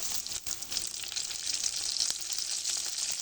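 Dried loitta fish and small cut potato pieces fry in a pan, giving a steady, close, loud sizzle of hot oil with brief stirring scrapes and no voices.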